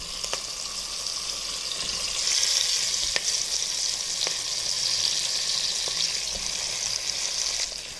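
Brinjals sizzle and fry in hot oil, a steady bright crackle throughout with a few sharp pops and clinks as pieces go into the pan, no voices.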